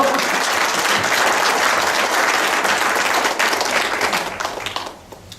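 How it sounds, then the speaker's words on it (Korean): A crowd claps at a political campaign rally for a mayoral candidate, dense and loud applause sustained for several seconds before thinning out and fading at the end. "박수 한번 주시죠."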